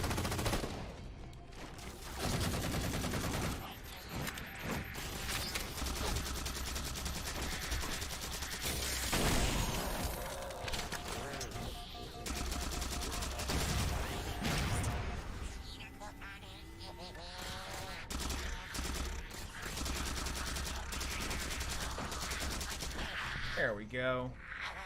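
Rapid, sustained bursts of automatic gunfire from a powerful weapon in Halo 4, loud and dense, mixed with mechanical clatter and game effects throughout.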